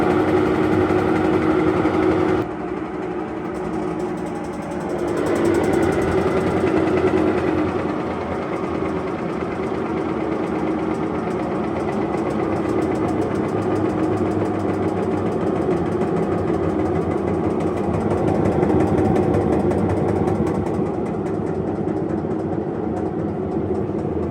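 A clothes dryer runs through an agitation test with a continuous, loud mechanical rumble and hum. Its tone shifts briefly near the start, then holds steady throughout.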